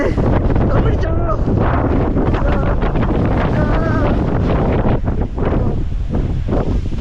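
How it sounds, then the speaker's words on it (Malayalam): Strong wind buffeting the microphone in a continuous roar at a sunflower field in Sundarapandyapuram, with people talking over it throughout. "ഭയങ്കര കാറ്റാട്ടോ ഭയങ്കര കാര്യം നല്ല കാറ്റുണ്ട്"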